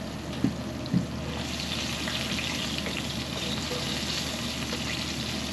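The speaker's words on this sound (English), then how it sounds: "I'm going to shallow fry them." Breaded smelt shallow fry in hot oil, a steady, even sizzle hissing close by, with two faint knocks near the start and no talking.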